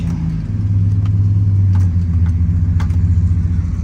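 A turbocharged car engine pulls away after warming up, a loud, close low drone that swells in pitch as it accelerates, with no talk.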